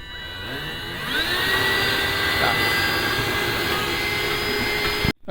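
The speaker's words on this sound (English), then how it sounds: "that's that piece cut out with the Dremel" A Dremel rotary tool cuts through a metal PC case panel, its steady high whine rising as the bit bites in and holding loud and continuous for several seconds before cutting off abruptly.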